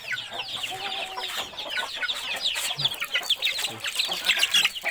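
Young chickens around a month and a half old clucking in a backyard flock, busy overlapping clucks and high chatter sounding close and steady throughout.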